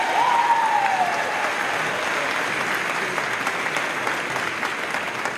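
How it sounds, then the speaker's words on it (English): Applause from a high school commencement audience, a dense, steady wash of clapping sustained throughout, with a brief whistle at the start. "can we give them a round of applause, please?"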